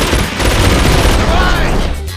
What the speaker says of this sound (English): take control of the machine gun and clean house